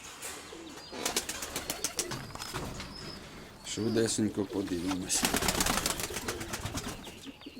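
Pigeons cooing and flapping in a dovecote during the breeding season, with soft coos and bursts of wing beats nearby, while someone speaks briefly over them.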